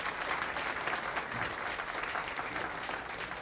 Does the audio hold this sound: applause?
yes